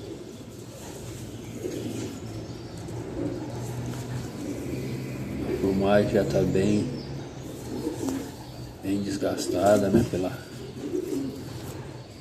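Racing pigeon cooing in a loft in Lafaiete, Minas Gerais, soft low rolling coos in a few bursts near the middle and end, under someone talking close by.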